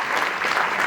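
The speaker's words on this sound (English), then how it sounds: "once again we are clapping big hand to Dr. Kiran for wonderful talk." An audience at a lecture claps together in a brief, dense burst of applause, close and steady with no voices on top.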